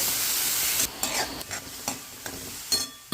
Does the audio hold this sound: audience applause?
no